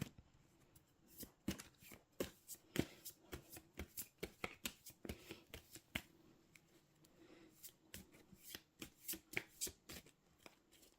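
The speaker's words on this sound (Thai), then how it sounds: "ขอเป็นตัวแทนสับไพ่ตัดไพ่ให้คนเกิดวันศุกร์ค่ะ" Tarot cards are shuffled and cut by hand in a quiet room, a rapid series of soft, crisp riffles and taps in an uneven rhythm, close and gentle throughout.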